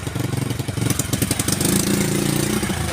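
Motorcycle engine idling unevenly with a misfire, a close, steady low rumble pulsing in a rough, stuttering rhythm for a few seconds, with no talk over it.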